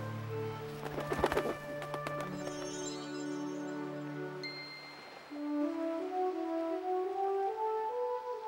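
A dove in an animated story of Noah's ark coos softly amid a gentle sustained musical score, the call sitting close and clear over the tones for several seconds before the music shifts to a brighter melody.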